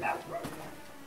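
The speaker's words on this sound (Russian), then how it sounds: "Собака гавкает." A dog barks once or twice in a Hungarian family vineyard setting, fairly close, with faint background voices and outdoor ambience.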